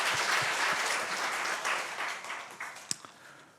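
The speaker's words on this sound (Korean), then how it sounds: "하나님께 우리 박수 영광의 박수 하십시오." A church congregation claps during a Sunday worship service, a dense, sustained wash of applause that gradually fades, with a few scattered louder claps near the end.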